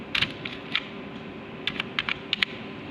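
Light, quiet tapping on a computer keyboard while text is entered in Paint: scattered clusters of soft keystrokes with pauses between them, heard alone over a faint background hiss.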